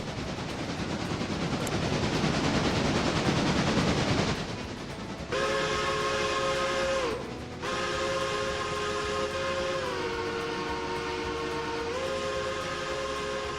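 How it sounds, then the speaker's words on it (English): A passenger train in the RailRoader railroading game rumbles past, then a long steady horn blast sounds, briefly drops out and resumes, holding loud and near over the rolling noise without any voices. "I gotta wait for this passenger train"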